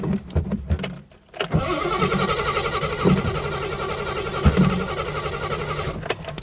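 A neglected 1972 Triumph 2000 Mk2, sitting unused for about 20 years, cranked on its starter: a steady, mid-pitched whirring crank lasting several seconds after a short clatter, close and fairly loud, with no clear catch.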